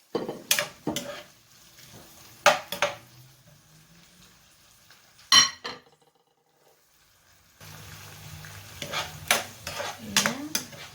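Chopped tomatoes stirred in a pan while cooking pork binagoongan, with several scraping, clattering strokes of a utensil against the pan amid a soft sizzle, quiet gaps between bursts.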